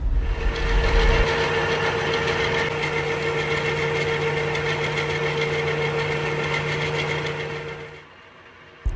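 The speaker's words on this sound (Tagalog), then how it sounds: "start the turning gear by push button forward" A ship's engine turning gear motor runs steadily on push-button forward start, a constant mechanical hum with a droning tone, holding level for about eight seconds before cutting off abruptly.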